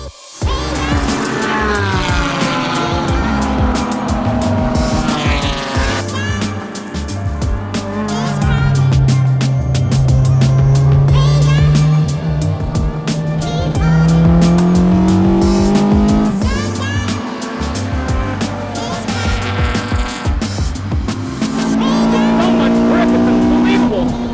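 Honda Civic on slick racing tires lapping a track, its engine droning and rising and falling in pitch through gear changes, with tire noise; a person talks over it at times.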